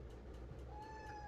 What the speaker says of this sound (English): His little meow is like the saddest thing ever.